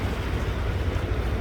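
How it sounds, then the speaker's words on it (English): Waves washing onto a Hood Canal beach on Washington's Puget Sound waters, a low continuous churn of surf with wind rumbling across the microphone, steady and fairly quiet throughout. "the waves crashing on the beach"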